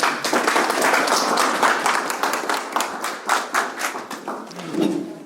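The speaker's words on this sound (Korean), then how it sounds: "박수로 맞이해 주시기 바랍니다." An audience welcomes a psychology professor onto the stage at a talk with a burst of steady, full applause that gradually thins toward the end, ending in a few scattered claps.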